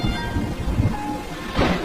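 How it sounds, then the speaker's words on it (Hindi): Heavy rain with low rumbling thunder in an animated story, a dense steady downpour under deep rolls and a brief swell of noise near the end. "बारिश बहुत ज्यादा तेज थी"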